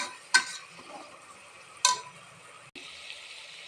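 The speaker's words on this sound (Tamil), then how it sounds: "எண்ணெயில் நல்லா வதங்கட்டும்." Chopped coriander sautés in oil for kuska, a faint, even sizzle broken by two sharp utensil clinks against the pan and a brief pause near the end.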